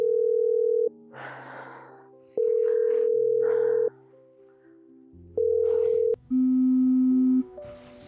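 An unanswered phone call, a repeating electronic ringback tone of long steady beeps with gaps between them, heard up close and clean, with a short background voice in one gap.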